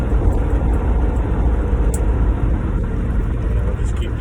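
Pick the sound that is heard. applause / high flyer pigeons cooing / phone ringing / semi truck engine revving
semi truck engine revving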